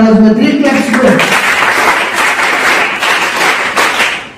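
An audience at a personality-development lecture for a school summer class bursts into applause that follows a brief voice at the start and then holds as dense, steady clapping for several seconds.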